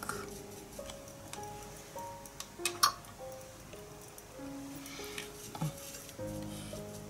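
A brush stirs Winsor & Newton granulating medium into watercolour paint, giving soft scraping swirls and light taps against the palette, with a few sharper clicks, close and quiet under faint background tones.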